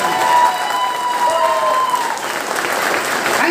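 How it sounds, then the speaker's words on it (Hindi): A seminar audience claps loudly for Vestige, dense applause from a large crowd sustained throughout, with faint tonal sounds and a little background voice mixed under the clapping. "जोरदार ताली एक बार वेस्टीज के लिए"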